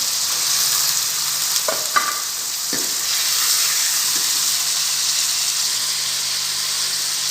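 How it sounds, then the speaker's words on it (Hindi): Chicken and cauliflower with tomato frying in a home kitchen pan, a steady hiss of sizzling with a few brief scraping stir sounds near the start, close and fairly loud, with no talking. "और इसके साथ साथ मैं चिकन भी डाल दूंगी। दोनों को फ्राई कर लेंगे।"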